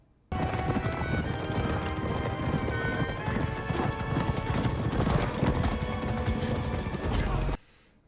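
A horse gallops in a War of the Rohirrim film scene, with dense, loud hoofbeats and a whinny buried in a full cinematic mix. The sound runs continuously for about seven seconds, then cuts off abruptly.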